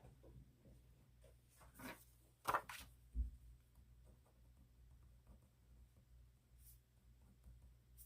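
A highlighter squeaks and scratches across a paper cash-stuffing budget card in a few short strokes, quiet and close, with a faint hiss of room tone and no voices.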